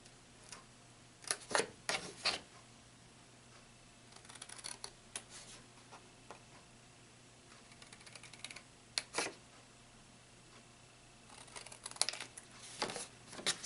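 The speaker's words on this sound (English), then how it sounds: "you're going to cut out the little triangles here, and then you're going to cut out the little triangles down here" Scissors snip small triangles out of scored cardstock for a card box, a scattered series of faint, crisp cuts and paper rustles in quick clusters, close by and quiet.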